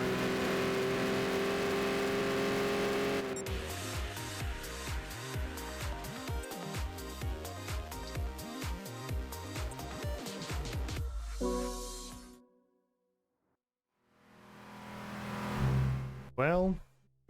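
A race car in Gran Turismo 6 revs and accelerates hard, a loud, rapid run of rising engine sweeps and gear changes that cuts off, then swells again briefly after a near-silent pause.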